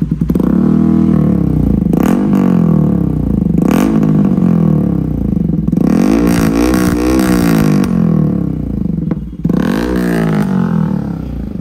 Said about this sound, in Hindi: जैसे आप इसको रिव करोगे ना गाड़ी को तो आवाज़ फटना स्टार्ट हो जाएगा